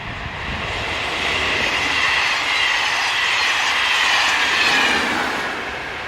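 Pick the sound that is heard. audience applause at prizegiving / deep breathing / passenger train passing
passenger train passing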